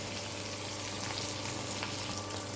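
Ivy gourd pieces sauté in a hot pan with a dense, continuous sizzle, close and steady throughout, with faint stirring underneath.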